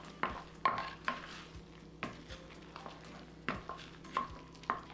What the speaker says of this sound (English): Now we're gonna stir it all around